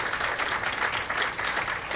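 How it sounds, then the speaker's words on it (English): An audience at a press conference announcing the Green Heart Project applauds, with dense, steady clapping that carries through the whole moment at moderate level. "That does deserve a round of applause."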